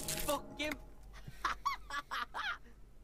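In the Disco Elysium video game, a voice actor imitates a flock of laughing seagulls with a series of honking, cackling squawks, several quick bursts in a row, moderately faint.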